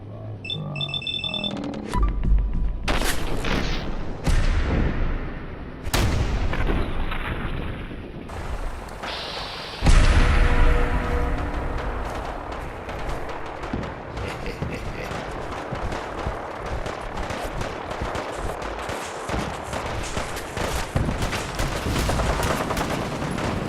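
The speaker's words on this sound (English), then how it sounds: "We go in shooting." Rapid bursts of gunfire and explosive blasts from the Fallout 4 video game battle at Bunker Hill, dense and continuous, with sharp cracks over a rumbling backdrop throughout.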